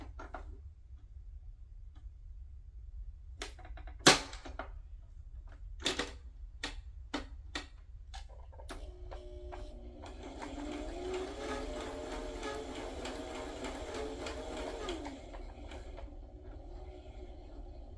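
A sewing machine stitches a zigzag on paper for a small glassine piece. A few sharp ticks and clicks come first, then a short burst of fast, close mechanical whirring that stops abruptly.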